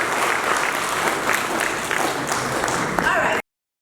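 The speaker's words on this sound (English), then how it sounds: "Please, let's clap for her." An audience at a national dialogue in Tamale applauds a former gender minister, with steady, dense clapping and scattered crowd voices for about three seconds before an abrupt cut.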